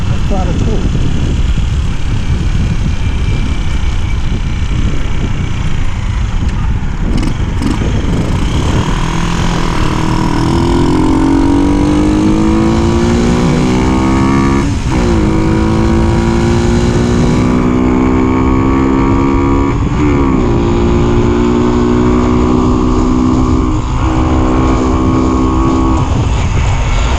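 A Hartford HD125 motorcycle accelerates hard along a road, its engine pitch climbing through several gear changes with brief drops between them, loud and close under heavy wind rush.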